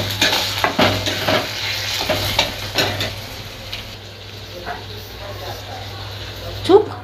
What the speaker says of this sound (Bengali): দুধটা দিয়ে দিলাম, চামচ দিয়ে নাড়িয়ে